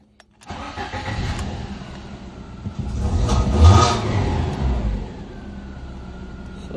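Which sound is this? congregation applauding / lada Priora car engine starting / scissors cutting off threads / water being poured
lada Priora car engine starting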